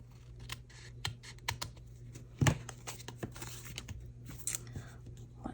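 Scissors trim a paper craft tag in a few quiet, close snips against a faint room hum, with a slightly louder cut midway and no talking.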